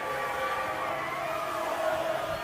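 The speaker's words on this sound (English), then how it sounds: "there is the full-time siren sounding" A sustained full-time siren wails across a rugby league grand final ground, a steady tone holding for several seconds over a broad crowd wash.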